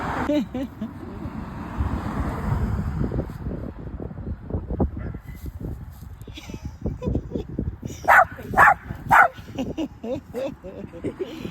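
A dog barks in a short burst of about four sharp yelps near the end, after a stretch where people talk over outdoor background noise.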